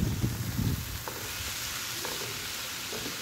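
Chopped vegetables, including capsicum, fry in a pan for a veg puff filling, giving a steady close sizzle with a few stirring scrapes near the start.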